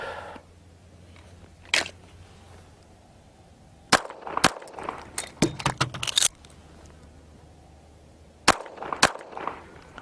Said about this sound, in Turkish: Kılıftan çekip A'ya iki atış, şarjör değiştirip B'ye iki atış.